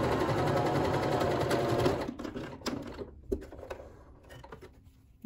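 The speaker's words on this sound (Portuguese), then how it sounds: "Vou passar uma costura aqui dividindo." Sewing machine stitching a dividing seam through fabric scraps, a close, steady rapid whir for about two seconds, then stopping into quieter handling clicks and rustles.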